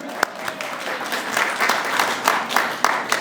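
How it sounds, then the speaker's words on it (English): A round of applause fills a room at a Washington, D.C. gathering hosting Alaska whaling captains, dense steady clapping from a small crowd, fairly close and continuous throughout. "started that round of applause"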